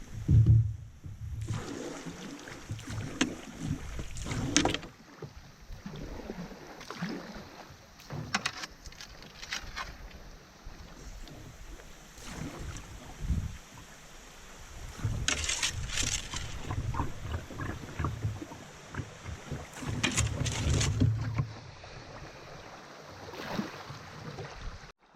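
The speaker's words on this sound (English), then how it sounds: "going through Little Rapids here, following my dad and Bob Tyler." A canoe runs Little Rapids on the Current River in the Ozark National Scenic Riverway near Eminence, Missouri. Rushing water surges in uneven bursts, with hull knocks and paddle splashes rising and falling up close.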